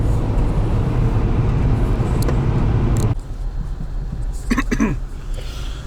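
A car driving home on a road makes a loud, steady engine and road roar from inside the cabin that drops slightly partway through, with a few brief clunks.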